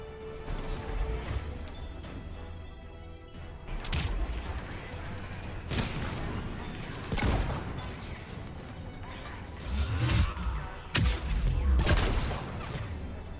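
Turret gunfire in the Mass Effect 3 video game, heavy bursts and booming impacts repeating through a dense, loud mix of game noise.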